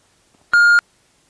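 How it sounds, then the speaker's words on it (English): A notification bell sound effect rings as a single short, clean electronic tone, loud and alone against silence. "Notification bell,"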